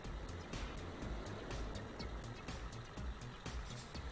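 A low, steady engine rumble of a heavy truck driving in the video game Euro Truck Simulator 2, with a constant droning roar and faint rhythmic clicks, heard fairly quietly.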